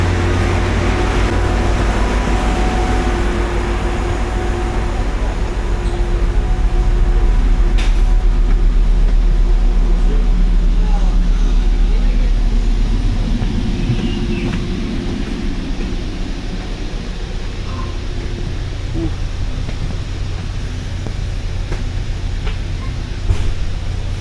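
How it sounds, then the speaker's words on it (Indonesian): A Tri-Rail double-decker commuter train at a Fort Lauderdale station rumbles and hums, its low engine drone swelling midway and then easing into a steadier idle, with faint clanks and no speech. "Ini dia keretanya Tri Rail."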